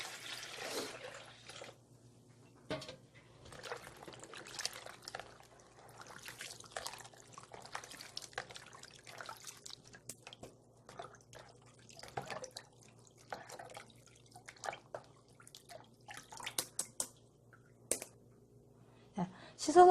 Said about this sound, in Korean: 그래서 이거는 한 번만 헹궈 줄게요.